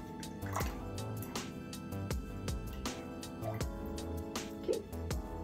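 Water poured into a clean jelly jar while feeding a sourdough starter makes a faint, quiet trickle broken by repeated soft drips and splashes.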